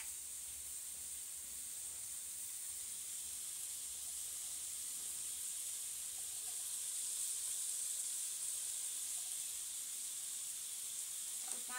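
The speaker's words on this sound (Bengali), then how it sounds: "ভালো করে মশলাটাকে এখন আমি কষিয়ে নিচ্ছি" Turmeric and spices sizzle steadily in a hot pan for a green chilli curry, a continuous close frying hiss with faint stirring that holds at an even level throughout, with no voices over it.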